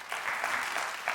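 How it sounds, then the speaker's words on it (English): An audience breaks into a short burst of clapping, a dense patter of many hands at moderate volume, lasting about a second. "Clap for A if that makes you hungry."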